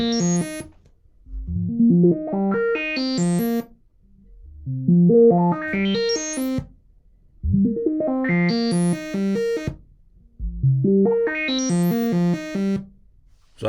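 Analog modular synthesizer running sample and hold fed from an LFO instead of noise, giving repeating bursts of stepped, harmonically rich tones that rise in pitch, with four or five cycles separated by short gaps, loud and without talk.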